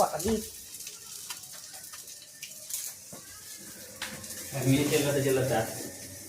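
Hilsa fish head and vegetable stems cook into chachchari in a pan, giving a steady close frying hiss with occasional stirring scrapes. A voice comes in briefly near the end.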